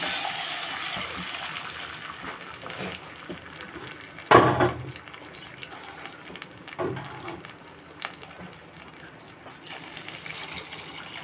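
Water splashes and gushes into a cooking pot for upma in a short, loud burst, followed by a few softer clinks and sloshes against a quiet kitchen background.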